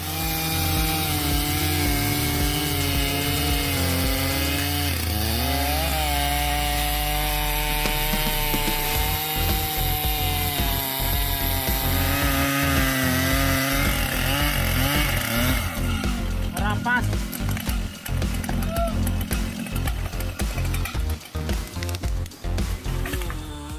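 A Stihl MS 881 chainsaw cuts into a yellow cedar tree at a logging site, its engine running loud and close throughout with a sustained, rising and falling whine, turning rougher and more broken in the last third as the cut goes deeper.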